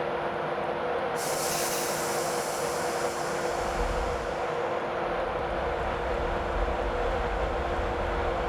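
A Class 91 electric train departs Berwick-upon-Tweed in Train Simulator 2016, with a steady cab rumble and hum, a brief high hiss early on and deeper low rumble building as it gets under way.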